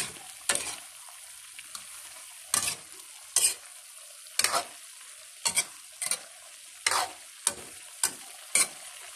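Sautéed chopsuey vegetables in butter are stirred in a pan, with about a dozen sharp scraping strokes at irregular intervals over a quiet, steady sizzle.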